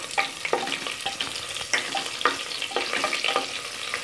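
Shallots and curry leaves sauté in hot oil for a country chicken curry, with close crackling sizzle and repeated scraping stirs, alone and with no voices.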